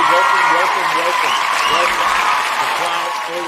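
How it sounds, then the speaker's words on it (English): A large crowd at the Saturday Night Raw wrestling show cheers and applauds loudly and steadily, with a dense wash of clapping and shouting that fades slightly toward the end. "The crowd always goes crazy here at Saturday Night Raw"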